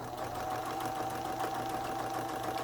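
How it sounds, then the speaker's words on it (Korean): Juki HZL-K85 home sewing machine, just repaired, running a straight stitch with a steady rapid mechanical hum and needle clatter, close and continuous with no talk. "직선 바느질, 밀려나가지 않았던 옷감이 정상적으로 밀려나가는 걸 보실 수가 있습니다"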